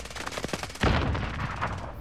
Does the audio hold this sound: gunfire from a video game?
yes